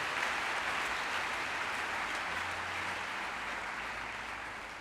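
A church congregation at a Sunday worship service applauding, a dense, steady wash of clapping from many hands that holds for several seconds and fades slightly toward the end, with no talk over it.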